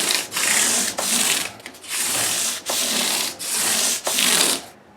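Ultra-fine emery cloth rubbed across a Les Paul guitar nut, a loud, close, rasping scrub in repeated strokes of about a second each with brief pauses between, no voices.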